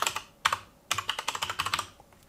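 A short burst of quick keystrokes on a computer keyboard as a folder name is entered, with close, crisp clicks in an uneven rhythm and a brief pause before a faster run.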